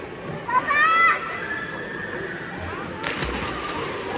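A child jumps into a holiday swimming pool, making one sudden close splash near the end after a voice and soft water sloshing.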